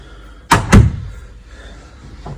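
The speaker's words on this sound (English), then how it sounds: "open this door here" A cabin door on a Nimbus 305 Coupé boat is pulled open, making two sharp, close knocks in quick succession followed by a short fading rattle in a quiet interior.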